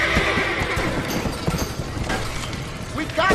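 Horses in a burning barn in the Red Dead Redemption video game whinny and stamp with hooves clattering, amid a roaring fire and shouting voices.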